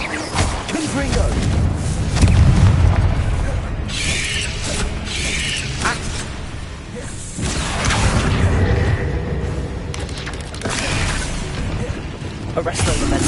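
Fiery blast from the Confringo explosion spell in the Hogwarts Legacy video game, a booming thump and whoosh rising out of busy combat noise, with a voice speaking over it.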